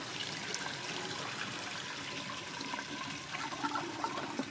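Water draining steadily through a tub drain with no screen, a continuous gurgling, trickling rush at moderate level with small bubbling spikes, heard alone.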